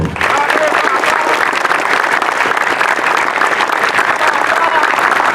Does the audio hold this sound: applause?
yes